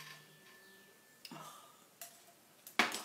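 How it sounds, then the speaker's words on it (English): A phone's notification chime in a quiet painting studio, a few faint, sparse ting-like tones separated by short pauses, with small clinks of brushes or dishes nearby and no voices. "Now there's my phone going ting-ting."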